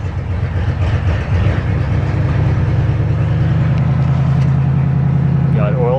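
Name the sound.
engine running after a cold start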